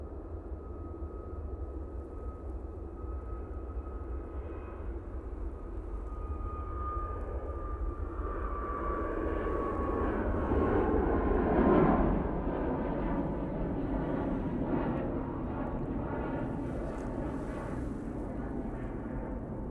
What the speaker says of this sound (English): Using their Max 8 for that flight. And they're off to Fuerteventura.